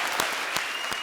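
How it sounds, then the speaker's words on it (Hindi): Studio audience applause at a comedy show, a steady wash of clapping with a few louder bursts, heard alone without talk. "दबंग के लिए तालियां यार"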